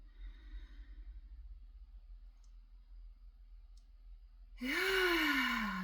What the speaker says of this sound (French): on va prendre une dernière grande respiration. Donc vous inspirez bien par le nez.